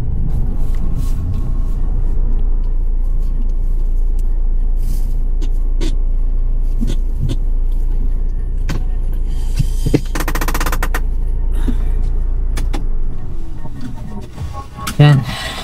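Cars and other vehicles pass along a street in Greenland, with a loud, continuous engine and road rumble and scattered sharp clatters and bursts.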